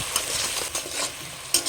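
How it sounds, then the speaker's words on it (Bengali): A spice paste of tomato, ginger and green chili stirred and frying in a pan, a steady hiss broken by a few spoon scrapes, close and fairly loud, with no voices. "মশলাটা 2 মিনিট মতো কষে নিয়েছি"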